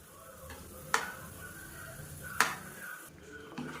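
A spoon stirs ghee into sweet rice prasadam in a pot, giving two sharp scraping clinks against the metal about a second and a half apart, with faint stirring and a soft background hiss between them.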